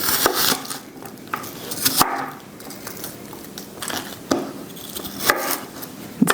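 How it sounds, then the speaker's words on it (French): A knife chops vegetables into large pieces on a board for a vegetarian chili, giving sharp, irregular thuds spaced a second or so apart, loud and close. "couper vos légumes comme ça, rapidement"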